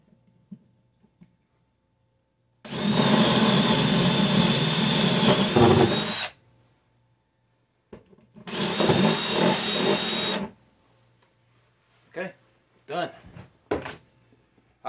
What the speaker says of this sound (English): So I'm going to drill a hole in the floor.